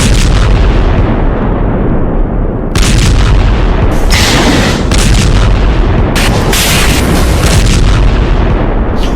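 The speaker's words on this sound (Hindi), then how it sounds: "गाजा में जिस तरह की बमबारी हो रही है" Bombing in Gaza during the Israel–Hamas conflict, captured in news footage: loud, heavy booms and blasts hit in repeated bursts over a continuous rumbling roar, with no voices.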